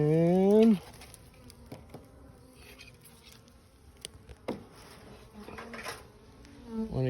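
In an opened hive, honey bees give a loud, close buzz that breaks off abruptly, followed by a faint hum with scattered light taps and rustles and a brief swell of buzzing at the end.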